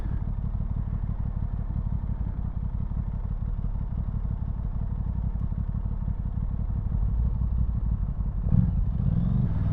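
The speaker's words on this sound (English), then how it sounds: "Even the older people, they love the rev, didn't they?" A 2022 Aprilia Tuono 660 motorcycle engine runs loud and close with a dense, steady throb throughout, and a short burst near the end as the revs rise.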